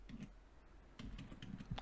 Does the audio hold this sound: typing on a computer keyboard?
yes